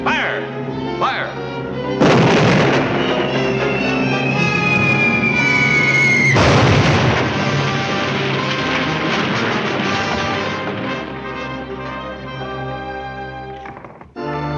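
Cartoon artillery cannons from a 1941 classic animated army short fire repeatedly in loud booming bursts over a busy orchestral score, with a long whistling tone and shouted commands between the blasts.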